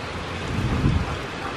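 Steady rain falls outdoors with a dense, even wash of noise and a low rumble swelling briefly in the middle, heard alone with no voices.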